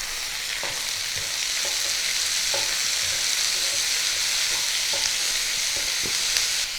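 Onion, garlic and chopped tomato frying in a pan for spicy eggplant bhurji, a steady loud sizzle with occasional spatula taps and scrapes, close and continuous.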